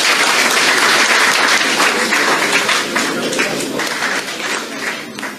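Loud, sustained applause from an audience at a presidential press luncheon, a dense wash of many hands clapping that gradually softens toward the end.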